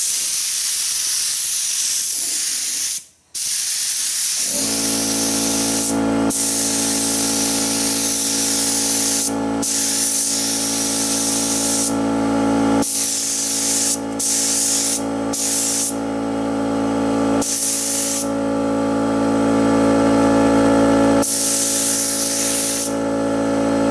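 A spray gun paints a car fender at home, giving a loud, steady hiss that runs in long bursts with brief gaps as the trigger releases, close to the listener and alone.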